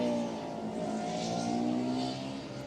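A Formula Student race car in a hybrid and combustion endurance session at FS UK 2023 comes around a corner on a lap, its engine a steady loud drone that fades slightly toward the end.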